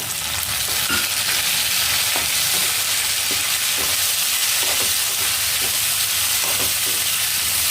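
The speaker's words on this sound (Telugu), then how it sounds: "ఇలా వేపుకోవడమేనండి కాసేపు" Onions, green chillies and tomato fry in a pan for a ridge gourd peel chutney, with a loud, constant close sizzle and faint regular stirring taps running through it; no talk.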